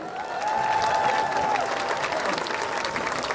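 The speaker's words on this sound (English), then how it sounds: "Let's give them a big round of applause." Crowd applause at a high school football game, a broad, continuous roar of clapping and cheering from the stands, steady and loud, with a faint tonal whistle-like sound gliding briefly early on.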